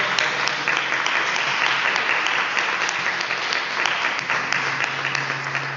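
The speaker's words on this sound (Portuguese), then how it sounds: "Vamos dar uma gloriosa salva de palmas ao Senhor" A church congregation claps in praise during a worship service, a dense, steady wash of applause from a full room that carries on evenly from start to finish with no one speaking over it.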